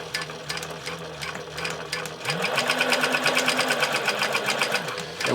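A Pfaff 463 industrial sewing machine stitches Tex 33 thread without its bobbin case opener, a quick, even rhythmic chatter close by that picks up speed partway through and keeps running steadily.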